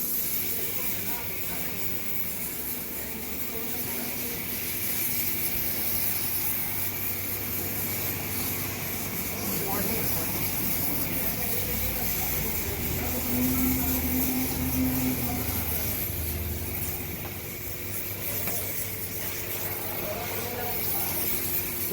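A cheap hand-pumped sprayer washes down a widebody Dodge Scat Pack car with a steady hissing spray, fairly close and continuous, with some surrounding background noise.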